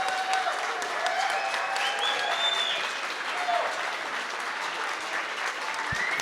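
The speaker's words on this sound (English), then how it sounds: "please, big round of applause" An audience at a live conversation event with RFK Jr. claps steadily and loudly throughout, with a few faint whistles and cheers mixed in.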